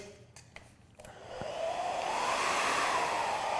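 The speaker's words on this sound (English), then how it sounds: "All towards the face, like so, and blow dry so you're going under" A hair dryer starts up and blows steadily and loudly at close range while hair is styled to curve under, after a few faint clicks at the start.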